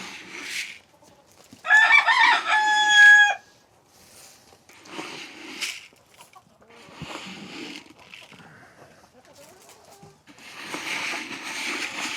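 Rooster crowing loudly and close among farm chickens, one long crow followed by scattered clucks and softer bird calls on a farm, with no talk.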